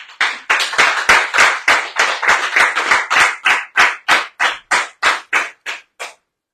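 A small crowd claps steadily for about six seconds, dense applause that thins into separate, slowing claps before stopping, with no voices over it.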